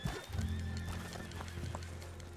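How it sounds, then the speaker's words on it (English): A horse whinnies close by in Red Dead Redemption II, a loud shrill neigh over a low rumbling bed, followed by a few scattered hoof clops. "Be careful on your horse though, because it will fall if you're too crazy."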